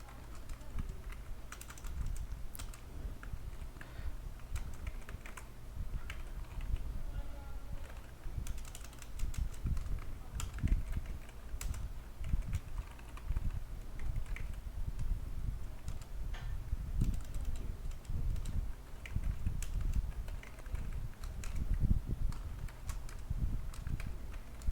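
Fingers type code on a computer keyboard in a steady, close patter of key taps that runs without break, with a person talking quietly over the clicking.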